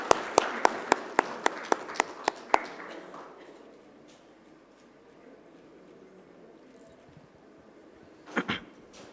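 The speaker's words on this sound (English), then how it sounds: "Can we have a big round of applause for our speakers?" About eight sharp, evenly spaced hand claps sound close by during an online conference session, then the room falls nearly silent until a brief clatter near the end.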